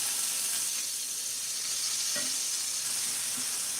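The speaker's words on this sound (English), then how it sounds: "We're gonna sear them off on their side." Shark pieces searing in a hot pan give a loud, continuous hiss and sizzle, with a single brief clink partway through and no voices.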